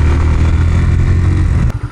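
Honda TMX 125 motorcycle engine running loud and close, a rough, throbbing mid-range drone that stutters unevenly toward the end.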